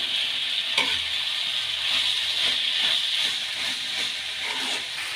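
Fenugreek leaves cook in a hot pan with potatoes, giving a continuous close sizzle and hiss, with soft scraping as they are stirred throughout.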